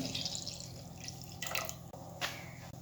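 Water is poured into a pan of ground masala for a dry mackerel curry with drumsticks and brinjal, giving a few brief splashy pours and drips over a low steady hum, close by, with no talking.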